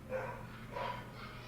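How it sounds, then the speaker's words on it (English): Several dogs bark indoors in a house, a few muffled, faint yips and woofs in short bursts heard at a distance over low background hum. "You can hear those dogs barking, can't you?"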